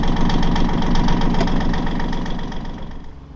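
Boat engine idling steadily just after starting, a loud continuous low rumble with a faint knocking pulse that eases slightly toward the end.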